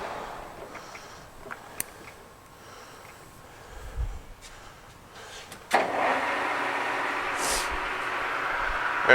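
A Jet GH-1660-ZX gap bed engine lathe with a 3-jaw chuck sits quietly with faint clicks and knocks, then its motor switches on abruptly and runs with a steady, loud whirring hum.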